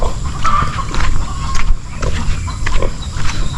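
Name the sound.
pigs grunting on a farm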